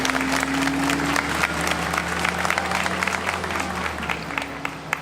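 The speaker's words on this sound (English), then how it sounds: "A round of applause," Applause at an outdoor memorial bridge dedication ceremony, steady moderate clapping from a gathered crowd lasting several seconds with a low hum underneath.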